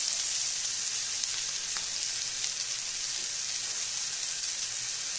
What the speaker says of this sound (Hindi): अब हम इस प्याज को ग्रिल होने देंगे अच्छी तरह से।